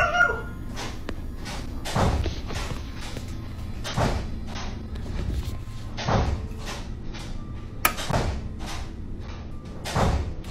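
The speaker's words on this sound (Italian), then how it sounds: "da lì sotto provengono degli strani rumori, come se ci fosse una porta che sbatte ripetutamente" A door in a basement bangs over and over, with a dull thud landing roughly every two seconds against a faint hum and no voices.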